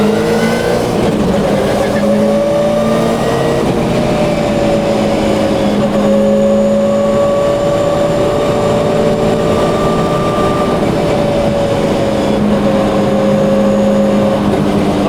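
A Subaru Impreza WRC rally car drives on a public road, heard from inside the cabin as a loud, steady engine drone whose pitch shifts gently as it holds speed, with people talking over it.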